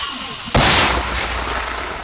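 A single loud artillery shot booms suddenly during combat near Robotyne, Ukraine, followed by a rumbling, decaying roar that lingers for over a second.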